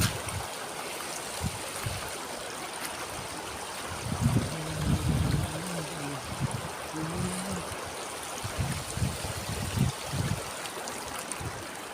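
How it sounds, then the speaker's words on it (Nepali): The large Trishuli river flows with a steady, broad rushing wash, close and continuous. A few low, brief rumbling bursts break through in the middle of the clip. "त्रिशुली नदी बगिरहेको छ, तरर बगिरहेको छ"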